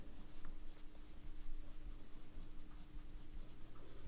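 A broad-nib fountain pen inked with Colorverse Pillars of Creation scratches softly across paper, with faint continuous strokes and small taps over a steady low hum.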